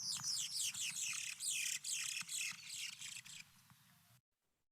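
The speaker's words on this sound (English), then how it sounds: "a squeal duet that he performed with his partner" Rapid, harsh squealing calls from a monogamous bird pair overlapping in a busy duet, loud and close, ending abruptly after about four seconds.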